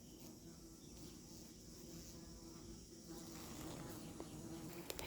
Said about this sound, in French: vu la quantité de guêpes en stationnaire là à l'intérieur